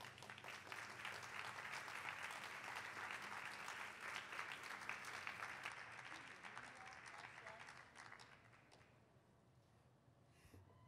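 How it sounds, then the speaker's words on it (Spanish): An audience at a Shakespeare reading marathon in Buenos Aires welcomes a reader with warm, sustained applause: dense clapping that holds steady for several seconds, then thins and fades toward the end. "La recibimos con un aplauso."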